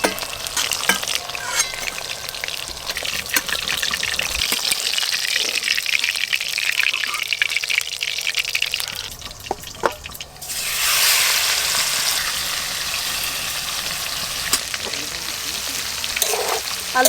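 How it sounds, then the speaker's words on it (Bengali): Potatoes frying in oil in a pan, a loud, bubbling sizzle with stirring scrapes and clatter, briefly dipping before surging back louder as the pan is worked, close and without any voice. "আলুটা ভাজা হয়ে গেছে"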